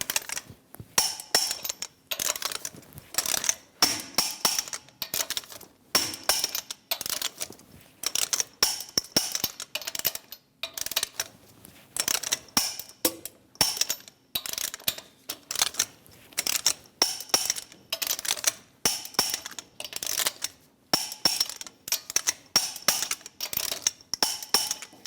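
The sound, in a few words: torque wrench tightening lug nuts on Chevrolet Express wheel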